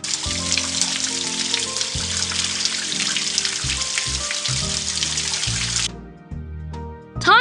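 Steady splashing water runs for several seconds, rinsing a pup's paws in PAW Patrol A Day in Adventure Bay, under cheerful game music, then stops, leaving only the music.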